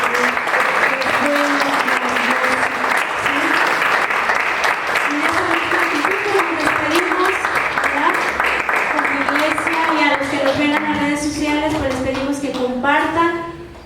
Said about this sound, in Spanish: ¿Por qué no le das una ofrenda de palmas?